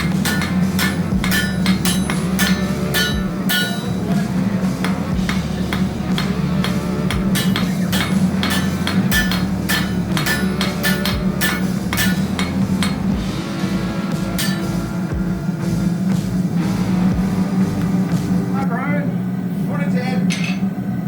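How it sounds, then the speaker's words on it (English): A metal bar is hammered down to a finer point by hand for a motorcycle shifter, sharp ringing blows struck in a quick, steady rhythm throughout, close and loud over a low constant hum. "we're taking it and just kind of hammering it down, drawing it down to a little bit finer point towards the end"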